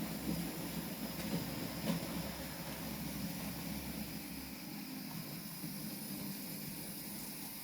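Model train engines run along layout track with a steady close whir and rolling rumble, an even mechanical drone holding through with faint clicks of wheels over rail joints.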